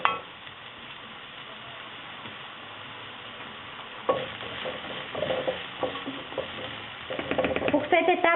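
Onion frying and browning in a pan gives a soft steady sizzle, joined later by scraping stirs and light clinks of a utensil against the pan.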